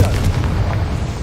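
Spell blast from Bombarda or Confringo in a Harry Potter video game: a loud, dense low-end boom that rumbles steadily through the whole moment with no clear decay.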